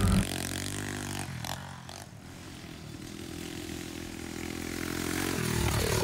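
A pit bike running rough with its exhaust fallen off, a steady loud motor drone that holds for the whole stretch, dips slightly midway and swells again near the end, with no talk over it.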